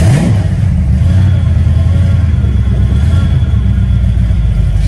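A 1973 car's engine runs loud and close, a steady low rumble that rises at the start as it catches and revs, then holds at a strong even drone.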